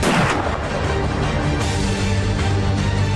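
Sustained heavy gunfire roars without pause, a dense, booming barrage of rapid overlapping shots that stays loud and continuous throughout.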